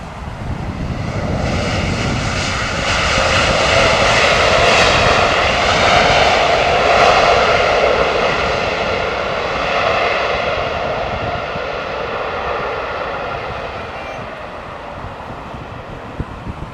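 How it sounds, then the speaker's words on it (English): A British Airways Boeing 767-400 jet roars loud and close in heavy rain, its engine noise swelling to a peak and then slowly fading away, with no one speaking. "It's a British Airways 767-400."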